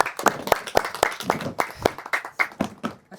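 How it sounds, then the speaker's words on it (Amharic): A small group of people claps at a surprise celebration, a brisk, uneven run of sharp hand claps up close, loud and steady across the whole stretch with no other sound on top. "አጨብጭቡላችሁ።"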